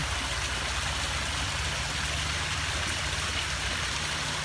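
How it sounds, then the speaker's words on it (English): A garden waterfall spills steadily into a pond, a continuous rushing, splashing wash of water that stays close and even for the whole stretch with no voices. "Here we are at the waterfall and the pond."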